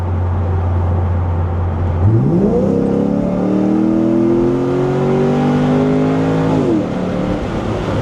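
A Corvette idling low, then accelerating hard, its engine note climbing steeply and holding a loud rising roar for several seconds before easing off, close and continuous with no talking.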